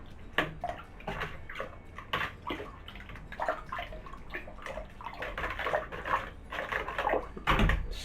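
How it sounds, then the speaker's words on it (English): Sugar being stirred into cherry wine must for a one-gallon batch, heard as close, irregular sloshing and scraping swirls with liquid splashes that keep going throughout and swell louder near the end. "You can keep on stirring until you no sugar left on the bottom."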